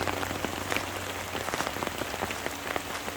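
Steady rain patters on a tarp shelter after a heavy downpour, a dense, continuous hiss of drops with scattered sharper taps close by, even and unbroken throughout with no voices.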